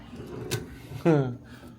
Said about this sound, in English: And then in the drawer we have Stephanie.